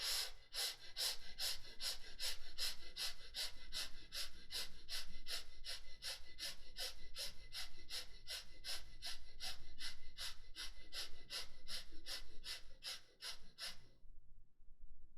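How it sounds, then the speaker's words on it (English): Quick, short, gentle breaths drawn through both nostrils in a steady rapid rhythm, close and continuous for about fourteen seconds before stopping abruptly into silence. "you start breathing, quick and short, gentle breath through both the nostrils into the chest"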